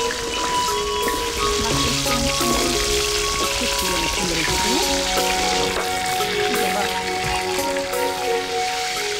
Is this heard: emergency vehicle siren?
no